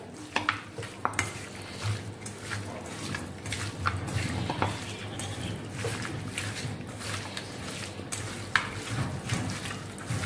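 Mutton with garlic paste and salt being stirred in a clay pot, a continuous run of scraping and knocking strokes over a low sizzle, close and steady with no talking.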